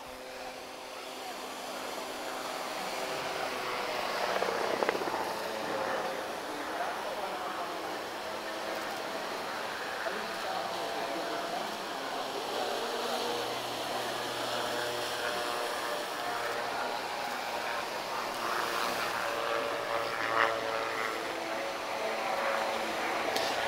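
An open-cockpit aircraft flies low over the Oeiras Air Show 2023, producing a steady, loud engine roar that swells slightly and holds throughout the pass with no break.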